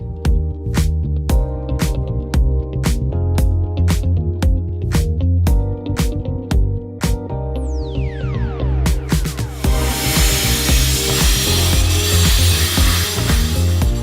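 Concrete footing being cut out of a garage floor: a run of sharp repeated impacts like hammer or chisel strikes, then a steady loud hissing grind from a saw or grinder biting into concrete, close and dominant with no talk.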